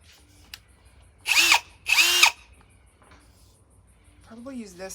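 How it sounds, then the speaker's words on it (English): Two loud bursts of a power drill whirring, each about half a second, drilling holes in a plastic garden bed, separated by a short pause, followed by a brief murmur of speech. "I'm just going to drill the holes in the garden bed, the plastic one"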